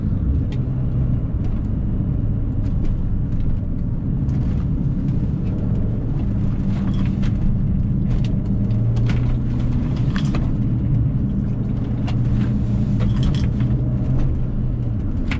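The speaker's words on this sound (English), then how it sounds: "We'll see how it responds when I'm on the throttle through some of these turns in this big long roundabout." A Mini Cooper R53 with new fuel pump, plugs, wires and coil pack accelerating through a long roundabout, its engine droning loud and steady from inside the cabin with a constant road rumble throughout.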